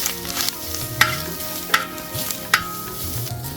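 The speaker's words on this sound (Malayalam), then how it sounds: "ഈ തേങ്ങ ഇട്ടൊന്ന് വറക്കാം ഒരു തേങ്ങ മൊത്തം ഉണ്ട് കേട്ടോ ഇട്ട് കൊടുത്തിട്ട് നന്നായിട്ടൊന്ന് വറക്കാം" Freshly grated coconut roasts in ghee with a low, steady sizzle, punctuated by sharp scraping strokes of a spoon stirring it around the pan.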